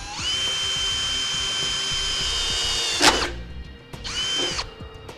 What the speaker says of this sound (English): use a small pilot bit to drill out our hole.